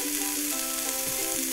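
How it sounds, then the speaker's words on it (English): Cauliflower stir-fries in a wok, a loud continuous hiss and crackle of frying with a few faint scraping stirs, close up and with no talking. "Stir fry until the cauliflower is slightly charred."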